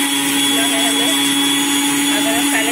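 An electric mixer grinder pulverises chaat masala spices with a loud, close, unbroken whirring whine that holds steady from start to finish.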